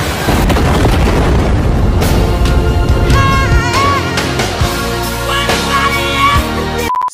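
A loud explosion in the Demon Slayer anime, a continuous heavy boom and roar with rumbling bursts sustained over several seconds, mixed with dramatic music and cutting off abruptly at the end.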